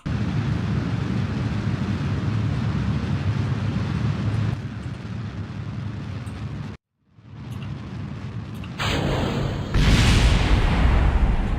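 A rocket explodes in Kerbal Space Program, a roaring engine-like rush that cuts to a brief silence, then returns and swells into a louder, broader blast near the end, with no voices.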